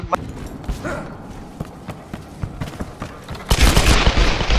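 Minigun fire in a shooter video game crackles in dense rapid bursts, growing into a loud sustained roar of gunfire near the end.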